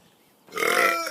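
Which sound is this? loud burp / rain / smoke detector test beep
loud burp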